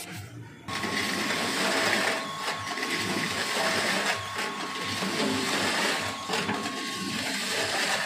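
NDA Engineering mixing machine running in a mixing unit, a steady mechanical whir with a constant tonal hum that starts abruptly after a quiet moment and keeps going with slight rattles.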